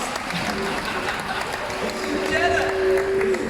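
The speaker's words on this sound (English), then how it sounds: "Give yourselves a flipper round of applause" Audience applause at a show at Shedd Aquarium in Chicago, a rattling wash of clapping from a crowd, with a voice talking over it as the clapping swells slightly toward the end.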